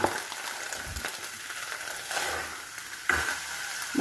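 A fish curry spice paste with turmeric and salt fries and sizzles in a pan, a soft, steady crackle broken by a few louder stirring scrapes.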